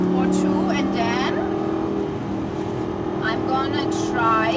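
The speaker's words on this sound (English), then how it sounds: "Downshifting. What a nice engine sound." Lamborghini Gallardo engine on a racetrack, a steady droning tone with shifts in pitch through downshifts, close and continuous, with a voice talking over it.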